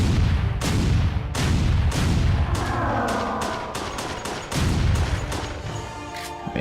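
Gunfire in a video game as the player shoots red targets, a steady series of loud, close shots with booming bursts and crashing impacts layered throughout.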